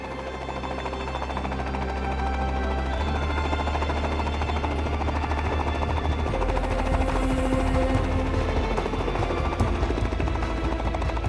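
Helicopter rotors and turbine drone steadily throughout in flight over the Flinders Ranges, a loud continuous mechanical roar with a rapid chopping pulse and no voices.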